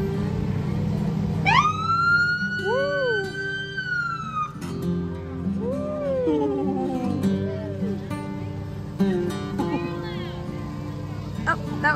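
An ambulance siren sounds up close, a rising then wavering electronic wail that repeats through the clip, with people talking over it.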